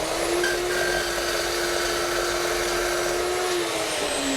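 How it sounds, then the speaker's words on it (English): A cold-cutting carbide chop saw working on aluminum extrusion gives a steady, moderately loud high whine that holds at one pitch, then dips slightly near the end. "Using aluminum extrusion cut on the cold cutting carbide chop saw."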